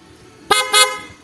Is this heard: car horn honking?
yes